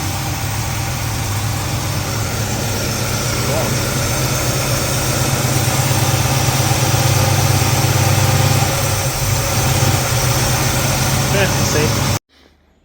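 A car engine idles steadily with a faulty choke and the alternator warning light on, a loud continuous low rumble with a constant hum that runs unbroken for about twelve seconds, then cuts off abruptly.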